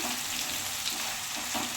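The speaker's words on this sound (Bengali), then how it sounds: "চিকেনটা আমার ভাজার মধ্যে হয়ে এসেছে" Chicken pieces for butter chicken fry in a pan, a steady bright sizzle with crackling oil and occasional stirring scrapes, close and continuous with no talking.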